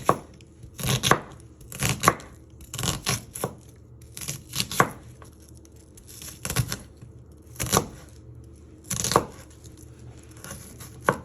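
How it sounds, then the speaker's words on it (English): A knife chops food on a cutting board while chicken chasseur is being prepared, in irregular clusters of sharp, close knocks separated by short quiet gaps. "So you're chopping it like that."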